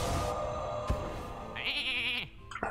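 In the Hearthstone card game a sheep gives a short bleat, set among chimes and electronic effects from the game, fairly loud and close.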